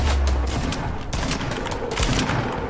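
Shotgun fire in the Fortnite video game, heard as a loud, dense barrage of blasts and gunfire that rattles on continuously, close and overwhelming throughout.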